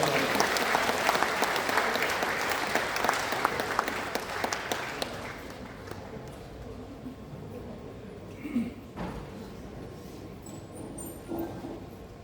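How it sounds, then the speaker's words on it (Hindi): An audience at a Hindi comic poetry gathering breaks into loud, dense applause that thins out after about five seconds, leaving scattered claps and quiet room noise. "दोनों हाथ ऊपर उठाकर जोरदार तालियां स्वीकार"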